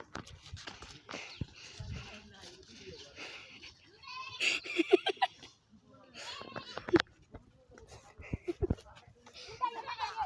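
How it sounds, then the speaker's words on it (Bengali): A goat caught in a noose bleats several times in short, strained calls, close by, while people rescuing it talk excitedly over rustling and movement. "ছাগল গিয়ে এমনি ফাঁস পড়ে গেছে।"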